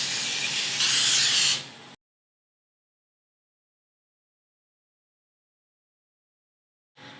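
A close, forceful spray of cooking spray into a pan hisses for about two seconds, then near silence, with a faint hiss returning at the very end.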